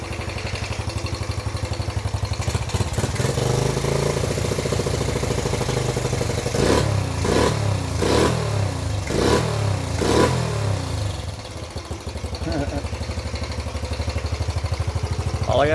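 A rebuilt Yamaha Badger YFM80 ATV engine runs loud and close, idling with a steady buzzing chug and then taking a run of quick throttle blips that rise and fall before it settles back to a rattly idle.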